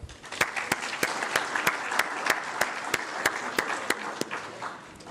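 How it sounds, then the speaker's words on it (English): Applause rises from a conference audience: a dense, moderately loud wash of many hands clapping, with one or two nearby clappers standing out as sharp, regular cracks throughout. "let's give a very warm round of applause to our"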